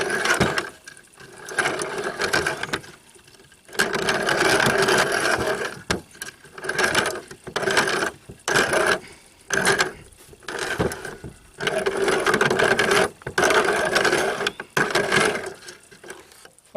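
A grinder chews through hard pucks of homemade black powder fed in by hand, giving loud, close whirring and grinding bursts that start and stop repeatedly with short gaps between.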